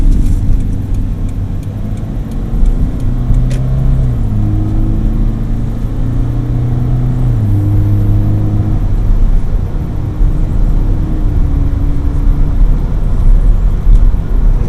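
A car drives along A1A near Daytona Beach with a steady, loud in-cabin engine drone and road rumble, and gear-like pitch steps as it accelerates.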